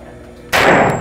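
A single sharp gunshot from a military rifle at an outdoor shooting range, loud and close, with a broad blast and a short decaying tail after near-silence.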